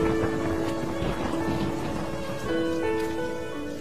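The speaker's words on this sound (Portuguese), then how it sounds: "tinha uns caminhões-pipa lá que faziam aquela chuva, né, uma chuva fictícia" Artificial rain sprayed from water trucks on a TV soap opera set falls in a dense, steady hiss with a low rumble underneath, loud and continuous throughout.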